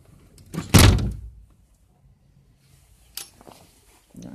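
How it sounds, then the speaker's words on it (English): A house door is pushed shut with one solid thunk and slam, followed by quiet and a fainter knock or click a couple of seconds later. "I'm gonna shut the door."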